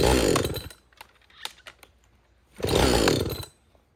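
Husqvarna 562XP chainsaw with a suspected fault briefly roars on a start attempt, drops to a few faint sputters and ticks, then fires again into a loud sustained run at close range.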